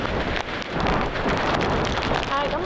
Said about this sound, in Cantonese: 強烈熱帶風暴風神帶嚟嘅就係呢啲大雨